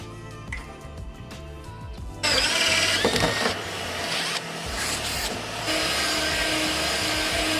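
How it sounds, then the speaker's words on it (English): A power drill grinds through a metal tank, starting abruptly and running in loud, uneven bursts with changing pitch over faint background clatter. "The next obvious challenge is to drill these holes down through the tank now."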